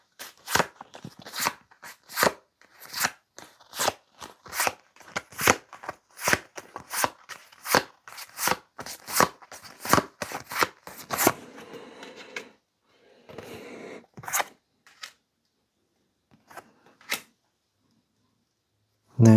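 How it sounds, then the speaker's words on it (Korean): Tarot cards are shuffled and drawn, making a regular run of sharp, close slaps and riffles at a steady beat, then slowing to a few scattered handling sounds before falling quiet. "카드 한 번 더 뽑아볼게요"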